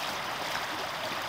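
A mountain river flows over rocks in a forest, a steady close rush of water with no break and no voices.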